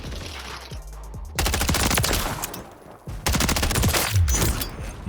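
Gunfire in Call of Duty: Modern Warfare III during an online match, loud rapid bursts of automatic shots in two long volleys with a short pause between them, close and dominant.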